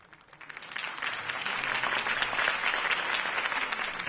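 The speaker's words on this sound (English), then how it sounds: "could have heard that applause" Crowd applause in the Batman Telltale video game swells in quickly and holds as a dense, steady wash of clapping and cheering from a large audience.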